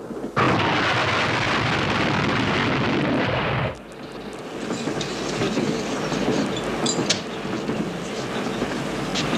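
A moving train rumbles loudly and steadily, then the noise drops abruptly to a quieter rolling clatter with scattered clicks and knocks.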